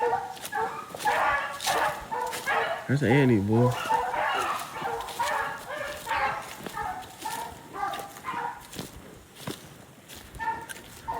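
Hunting dog puppies yip and whimper in short, high, wavering bursts out in rabbit-hunting brush near a waterway, heard under a man's near, steady talking.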